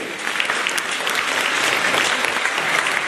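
Concert audience applauding at a choir's 30th-anniversary celebration in Vinnytsia, a dense, even burst of many hands clapping together, loud and steady for the whole stretch with no talk over it.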